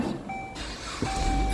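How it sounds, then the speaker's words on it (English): A vehicle's reversing alarm beeps near an auto repair shop, with two long, steady electronic tones sounding over a low rumble of background noise. "Friggin' beeping."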